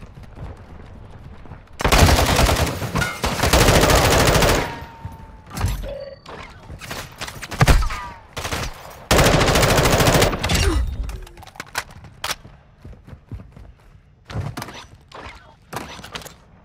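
Call of Duty DMZ gunfire on Ashika Island: two long, loud sustained automatic bursts and scattered single shots, with mechanical clicks and quieter gaps between.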